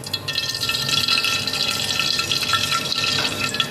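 Half a cup of cooking oil poured into a pan to start chicken shawarma, a steady liquid splash and trickle running continuously at moderate level with no talk.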